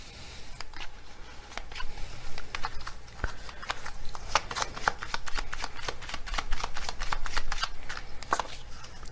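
Tarot cards shuffled by hand in a steady run of riffling and slapping taps, close and fairly loud, with no talking.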